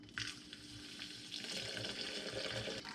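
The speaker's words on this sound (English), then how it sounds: "We add our distilled water." Distilled water pours steadily onto coffee grounds in a container while making cold brew, a continuous splashing trickle heard up close for the full three seconds.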